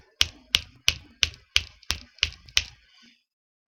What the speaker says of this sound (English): See the rate I'm snapping my fingers at?